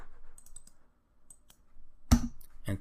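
Soft, scattered computer keyboard clicks as a password is typed, a few light taps spread out with one sharper key press near the end, close and quiet with no voices.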